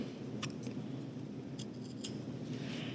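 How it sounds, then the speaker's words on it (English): Scissors snip through fabric at the corners of a vintage-style sewing-pattern top, giving a few sharp, close cuts over a steady low room hum, with no talking. "I'm just going to be real careful and cut to each corner like this."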